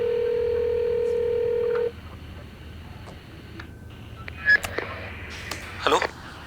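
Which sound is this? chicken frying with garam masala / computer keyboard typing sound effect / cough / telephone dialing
telephone dialing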